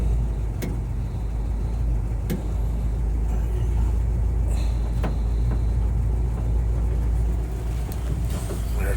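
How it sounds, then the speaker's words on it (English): An old fire truck's engine runs at idle, a steady deep rumble close by with occasional sharp clanks and knocks over the top. "Fire truck."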